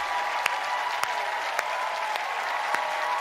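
A Late Show with Stephen Colbert studio audience applauding a live performance, dense continuous clapping and crowd noise at a steady level, with a few louder individual claps popping out.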